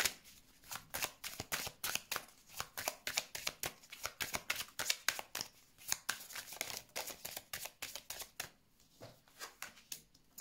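A deck of tarot cards being shuffled by hand for a reading, close and crisp, with rapid repeated riffling flutters in quick bursts, faint and alone.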